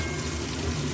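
Crushed ginger and green chilli frying in hot oil with cumin, a dense, steady sizzle close up with no voices.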